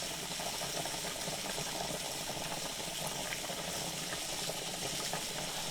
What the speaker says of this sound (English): Can y'all hear me over the boiling potatoes?